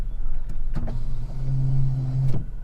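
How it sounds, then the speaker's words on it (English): The power rear window of a 2023 Toyota Tacoma Trail Special Edition pickup runs on its motor, a close, steady whine lasting about a second and a half. It starts after a couple of clicks and ends with a soft thunk. "This is your power rear window control."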